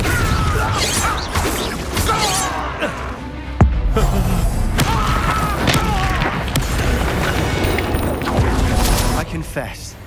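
Crashing blasts and thuds from the Confringo spell in Hogwarts Legacy, one sharp impact standing out among rumbling game effects, with a voice talking over them.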